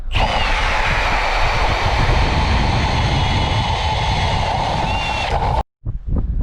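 An electric ice drill bores a hole through lake ice while ice fishing, giving a steady, loud whirring roar that runs without a break for over five seconds before stopping abruptly, followed by a few faint knocks.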